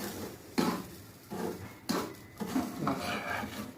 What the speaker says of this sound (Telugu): మొత్తం చక్కగా అలా కలుపుకోవాలి.